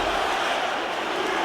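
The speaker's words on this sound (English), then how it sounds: "Let's go Weidman chant radiating through the crowd." An arena crowd at a UFC mixed martial arts event roars in a dense, steady wall of sound, with no clear words standing out.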